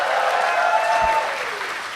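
A live convention crowd at a Dungeons & Dragons stage show breaks into loud, dense applause that holds steady before slowly easing off, with some scattered cheering.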